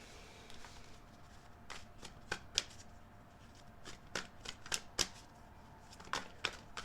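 Tarot cards are shuffled and handled at close range, sharp crisp riffles and snaps in irregular bursts over a quiet background, with no speech.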